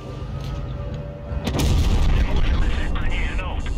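A tank's main gun fires with one loud, sharp boom in the World of Tanks Blitz battle game, then a rumbling tail over steady engine noise and talk.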